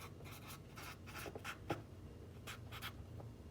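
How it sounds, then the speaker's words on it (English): Wet erase marker writing a label on a glass baby food jar, a close, steady series of short squeaky scratching strokes with brief pauses between them, no voices. "I use this like wet erase marker to label it."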